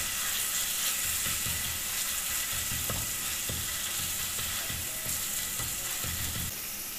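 Cumin seeds frying in hot oil in a home kitchen pan, a steady broad sizzle with faint crackles and occasional stirring clicks throughout, no talking.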